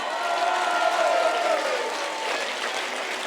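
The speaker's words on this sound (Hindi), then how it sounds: "एक बार जोरदार चिल्ला के तालियां बजाइए" A crowd at a live Holi folk music show in Sujangarh, Rajasthan claps and cheers together, a dense wash of applause with some whistling tones, sustained throughout.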